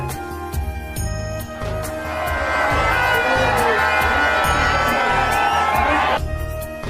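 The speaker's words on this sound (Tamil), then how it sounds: "பக்தர்கள் கைத்தட்டி ஆரவாரமிட்டு கொண்டாடினாங்க" At the Srivilliputhur temple chariot festival, devotees raise a loud, sustained roar of cheering that swells and holds for several seconds over a rhythmic drumbeat.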